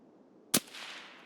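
A single sharp gunshot in the game Escape from Tarkov cracks out loud and close over a quiet background, followed by a short fading tail.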